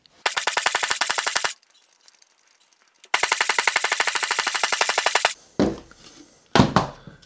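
An INGCO 20V cordless nail gun fires nails in rapid, evenly spaced bursts: a loud stream of sharp shots, a pause, then a longer stream, followed by a few scattered knocks and clunks.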